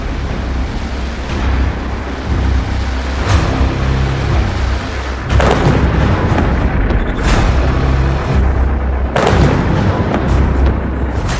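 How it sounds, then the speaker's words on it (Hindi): Explosions in Tel Aviv during Iranian missile strikes on Israel, recorded in news footage: several loud deep booms over a continuous low rumble, with sharp blasts at intervals and no speech. "तेल अवीव में धमाके"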